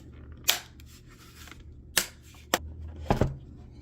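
The plastic back cover of a Steam Deck handheld is snapped into place, giving four crisp, close clicks spaced unevenly, the last two in quick succession, over quiet room tone.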